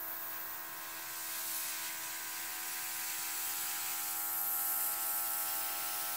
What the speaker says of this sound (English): I don't think my blower is going to be that powerful